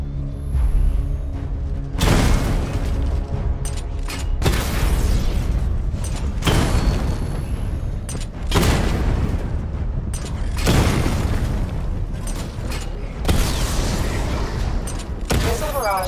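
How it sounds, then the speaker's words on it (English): Batman's Batmobile tank in Arkham Knight fires missile barrages during a diagnostic training stage: repeated heavy booming explosions roughly every two seconds, each with a crackling mechanical tail, loud and close. "Destroy targets to charge up weapon energy and activate missile barrage."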